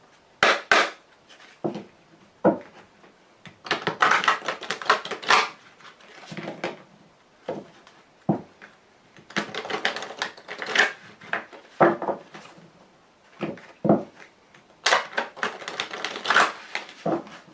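A Grand Jeu de Mademoiselle Lenormand deck is shuffled and cut by hand, producing close, soft bursts of papery riffling and slapping that come in irregular clusters with brief quiet gaps.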